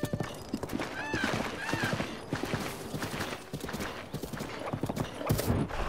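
Hooves pound in a fast galloping rhythm, with a horse neighing now and then, a busy scene without talk in the video game The Legend of Zelda: Breath of the Wild.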